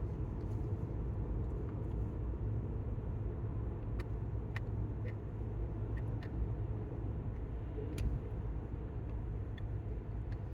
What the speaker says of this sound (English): A lot of traffic going the other way.